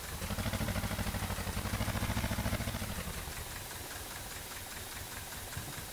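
Motorcycle engine in Farming Simulator, a steady low mechanical drone with a rapid knocking pulse, fairly quiet, easing slightly in pitch partway through and running alone.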